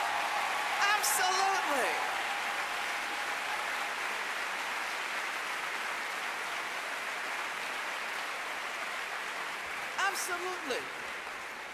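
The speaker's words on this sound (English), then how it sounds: "the men in the audience should stand up and applaud" An audience at a public talk applauds in a sustained, even wash of clapping lasting over ten seconds, while a voice speaks briefly over it twice.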